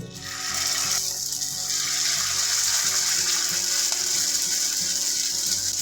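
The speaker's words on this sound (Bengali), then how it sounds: "ঠিক এইভাবে চিকেনগুলোকে ছেড়ে দিতে হবে তেলের মধ্যে" Marinated Chicken 65 pieces slide into hot oil and fry with a loud, steady, hissing sizzle that fills the whole clip, a faint voice murmuring low underneath.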